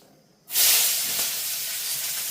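Onions dropped into hot oil in a pan, a sudden loud hiss that bursts in and keeps up as a steady, bright sizzle.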